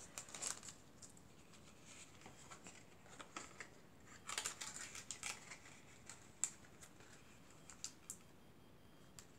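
Scissors snipping through paper for a shaker card craft, a quiet series of small irregular clicks and cuts, close but faint, with no talking.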